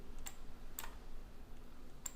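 Computer keyboard key presses during 3ds Max modeling work, three faint, sharp clicks spaced apart over a low steady background hum.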